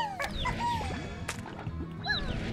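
Stony chickadee creatures in the game Slime Rancher cluck and chirp in a busy overlapping chorus, with short rising squawks repeating close by over a steady background hum.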